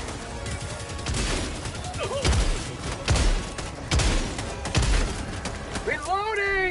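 Shotgun blasts in a co-op video game firefight, several heavy booming shots spaced about a second apart over dense game noise, with players talking over the action.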